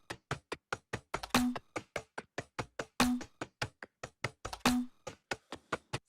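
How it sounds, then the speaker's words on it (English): Drum group percussion from an electronic song, a fast steady pattern of crisp dry knocking hits with three heavier accented hits carrying a short low tone, played alone and up close. "So all the drum group together sounds like this."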